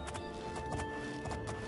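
Horse hooves clip-clop in the video game The Elder Scrolls IV: Oblivion, a quick run of sharp rhythmic hoof strikes heard close and fairly loud over a faint ambient game background.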